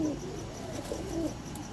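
Pigeons on a Lahore rooftop cooing, soft low repeated coos in a loose rhythm, close by over a faint background hum.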